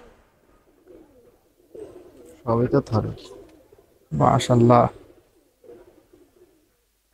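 Pigeons in a cage coo softly and repeatedly in the background while people talk loudly close by.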